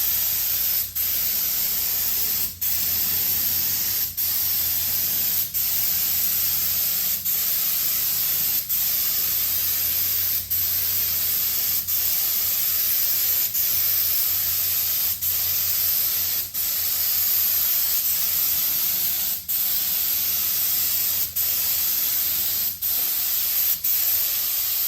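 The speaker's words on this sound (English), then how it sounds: "we got this thing sprayed down with that final coat of primer." Spray gun shooting primer onto the hull of a 1971 Boston Whaler 13 boat, a loud continuous hiss with brief regular breaks every second or two as the gun pauses, close and steady with no talk.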